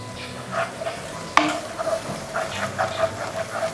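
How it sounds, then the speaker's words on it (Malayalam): Masala with spicy chili powder and asafoetida sizzles and fries in a pan for beetroot pickle, with a spoon stirring and scraping against the pan in irregular strokes and one sharp clank near the middle. "മസാല ഒന്ന് മൂപ്പിച്ചെടുക്കുക"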